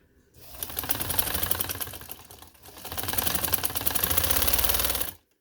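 A sewing machine stitches piping onto a sleeve in two steady runs of rapid mechanical clatter, close and fairly loud, separated by a brief pause, with no talking.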